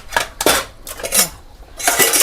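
Dishes and cutlery clatter in several loud, sharp bursts close by, metal and crockery knocking together with brief pauses between.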